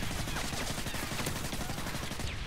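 MP45 submachine gun fire in Call of Duty Modern Warfare 3, a dense and continuous rattle of rapid shots that stays loud and steady for a couple of seconds, with no talk over it.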